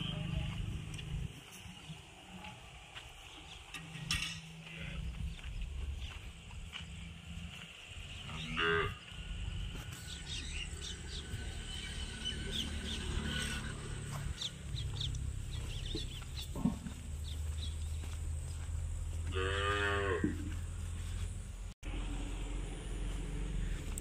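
Native-breed cows, including Tharparkar, moo on a cow farm, with several drawn-out calls, one loud and near, over a steady farmyard background with hens clucking and faint voices.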